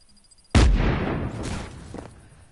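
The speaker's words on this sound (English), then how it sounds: "that's a grenade" A single grenade explosion in Just Cause 3 hits with a sharp, loud blast and then rumbles away, with a smaller after-burst near the end.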